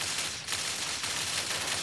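Rapid, continuous automatic gunfire from a machine gun in the video game Dead Knight, a dense, loud, sustained burst of shots with no talking.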